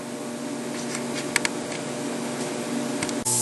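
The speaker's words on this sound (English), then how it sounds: "I'm going to start TIG welding this up." TIG welding on a repaired tank: a steady, even electrical hum and buzz holds throughout at close range, broken by a few faint ticks, ending with a brief clunk.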